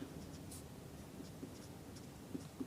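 A pen scratches across paper while maths working is written out, a faint close scraping with a few soft taps over a low background hum, no voice.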